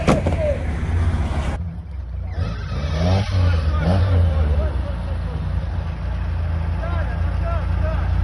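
A Lada Niva grinds through deep mud, its engine droning loud and close and straining in rough surges while people talk over it.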